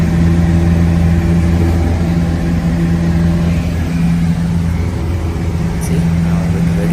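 A light aircraft engine drones steadily in flight at around 800 feet, a loud continuous hum with a constant low tone and no clear change in pitch.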